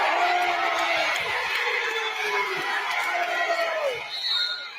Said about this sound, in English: you'll hear the crowd when they punch him